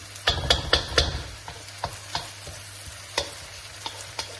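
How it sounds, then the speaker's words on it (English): Onions frying in butter for paneer bhurji get stirred steadily, with a crackling sizzle and a quick run of spatula scrapes and clacks against the pan, then sparser taps, close and without speech. "You have to continuously stir it in order to make the, make sure that nothing gets burned"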